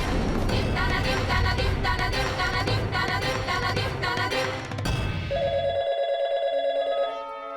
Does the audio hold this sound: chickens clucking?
no